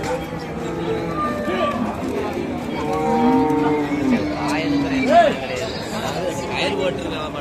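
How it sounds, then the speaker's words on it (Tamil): Rekla racing bulls at the Melapalayam cattle market low and moo repeatedly over steady crowd chatter and nearby voices, with one louder, rising call standing out. "பாகுபலி மாடு"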